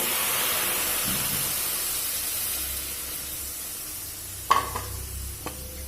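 Water is poured into a hot pan of mustard curry with boiled potatoes, giving a loud sizzling hiss that slowly fades, followed by a few sharp utensil clinks near the end.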